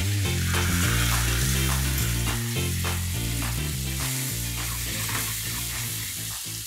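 Ginger and tomatoes being sautéed in a pan for pork binagoongan give a steady sizzle and frying crackle, loud and continuous beneath a layer of music, with no talk.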